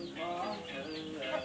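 A fighting rooster kept on a farm in Isan, Thailand, lets out harsh clucking calls in a few uneven bursts at moderate distance over a quiet background.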